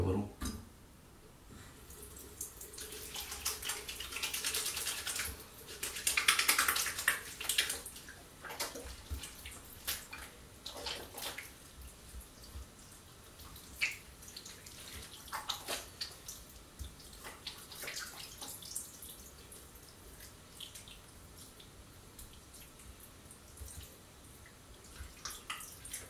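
Hands being washed with soap under running water from a tap: soft splashing and trickling, louder in the first several seconds, then quieter intermittent water and dripping.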